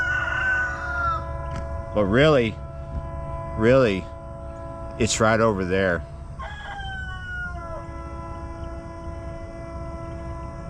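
A rooster crows nearby in several loud, wavering bursts, with someone speaking briefly in between.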